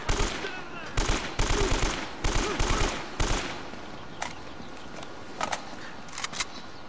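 Rapid bursts of automatic gunfire crackle loudly in the video game Uncharted: Drake's Fortune as the player shoots through Drake's tower, then thin out into scattered single shots.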